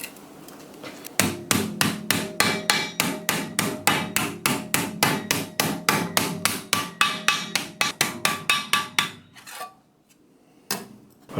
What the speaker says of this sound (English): I will now try to bend it using the hammer.